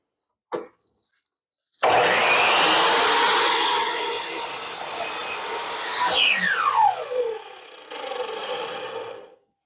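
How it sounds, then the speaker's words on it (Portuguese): Sliding miter saw tilted for a 45-degree bevel cut through wood clamped down: a brief click, then a loud sustained whining buzz of the blade through the cut, a falling tone as it spins down, and a quieter run before stopping. "Quando eu faço esse corte 45 graus, que eu estou inclinando na vertical"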